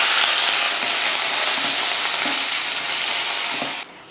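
Onion, green chili, mustard seeds, chana dal and curry leaves fry in hot oil with a loud, dense, steady sizzle, close up. The sizzle drops off sharply just before the end.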